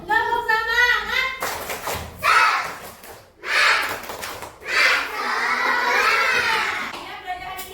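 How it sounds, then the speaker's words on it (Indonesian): Schoolchildren in a classroom doing a tepuk semangat spirit clap, rhythmic bursts of clapping and shouted chanting in several loud phrases, with a teacher's voice at the start. "Tepuk semangat."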